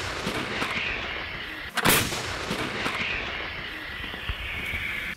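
A single loud blast from a 152 mm artillery gun booms out, sharp and heavy, with a rumbling tail over steady background noise.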